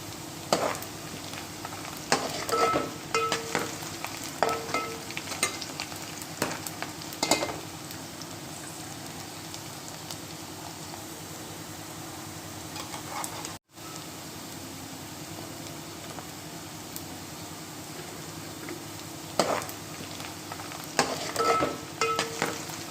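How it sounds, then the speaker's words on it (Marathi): Chopped onion and garlic fry in hot oil for a prawn and drumstick dish, a continuous close sizzle with scattered clinks and scrapes of stirring, busier at the start and end. "मी पहिले तेलामध्ये आता कांदा चिरून टाकलेला आहे. तर त्यानंतर आता लसूण टाकत आहे मी."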